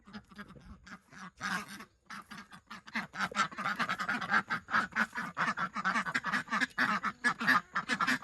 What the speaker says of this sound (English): And we got our ducks up here.